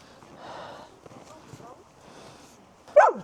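A dog named Boss, out with people in a snowy Arctic setting, gives a sharp short bark near the end after soft whimpers, while people talk through most of it.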